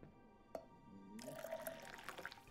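Water from a sink tap fills a cup in Twelve Minutes: a faint click, then a soft, steady running trickle with small splashes, quiet and close.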